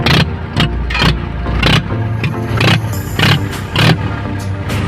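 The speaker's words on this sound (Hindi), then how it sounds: "अगर गाइस किसी ने महिंद्रा 475 की आवाज़ बिना साइलेंसर नहीं सुनी हो ना" A Mahindra 475 tractor engine running with its silencer removed gives a loud, raw, close exhaust note with rhythmic bursts and pulses, the throttle rising and falling repeatedly and no talk over it.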